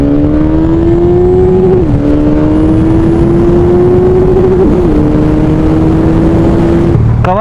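A 1999 Suzuki Hayabusa motorcycle engine holds a loud, steady, close high-pitched drone throughout, with two brief dips in pitch before it climbs again.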